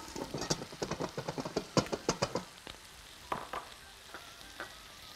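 Minced meat and onion fry in a pan, with a rapid run of crackling spatula scrapes and pops that gives way to a gentler sizzle with a few scattered scrapes, close and clear.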